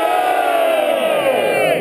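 A race crowd at a beer-drinking relay event shouts back loudly in unison, a sustained roaring cheer that swells and holds for nearly two seconds.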